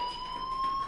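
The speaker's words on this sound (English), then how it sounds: "do you hear that fire alarm?" In the Life is Strange video game a fire alarm rings as a sustained, piercing electronic tone at moderate level, steady throughout the brief moment and heard alone without talk.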